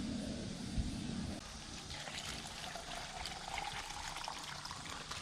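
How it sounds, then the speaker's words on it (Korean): Plain tap water is poured into a container to top up a fertilizer solution for garden cucumbers, giving a faint trickling, splashing stream that shifts in tone partway through and carries on steadily. "여기 덜 채워진 부분은 맹물로 갖다 어, 채워 넣겠습니다"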